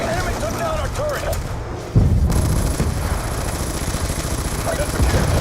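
Rapid bursts of automatic gunfire and booming explosions from a shooter video game, dense and continuous, with a sudden louder volley partway through and a steady rumble underneath.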